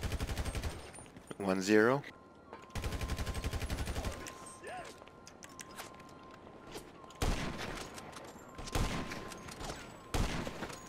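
Gunfire in a GTA 5 deathmatch, with short bursts of video game shots scattered across the clip and a voice speaking briefly between them.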